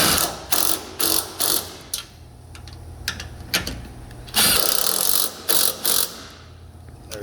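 A ratchet clicks in quick, loud bursts while tightening bolts on a 1990s Nissan Sentra, with repeated short ratcheting strokes separated by brief pauses and small metallic taps.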